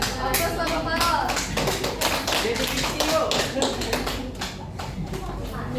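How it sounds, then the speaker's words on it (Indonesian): A classroom applause for Pak Farhan after a micro-teaching practice session, with a group clapping in quick, steady claps that fade out toward the end and a few voices under the clapping. "Aplaus buat Pak Farhan."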